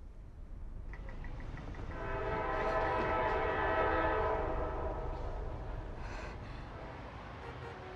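A train near Beijing railway station sounds its horn in a long, swelling blast that rises and fades over a steady background rumble, with no one speaking.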